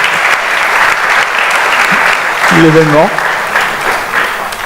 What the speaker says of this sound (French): on vous applaudit pendant qu'on mémorise